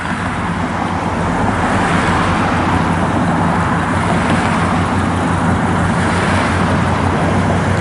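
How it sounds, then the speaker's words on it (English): Steady, loud road traffic passing on a state road in Goodrich, Michigan, a continuous close roar of cars and vehicles with no pauses and no voices. "Got a fair amount of traffic today,"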